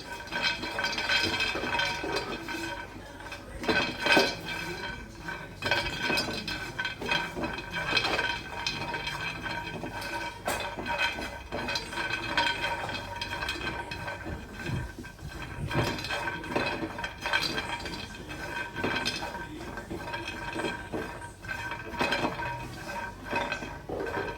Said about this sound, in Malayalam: ആ ബദാം ഒന്ന് ചൂടാക്കാം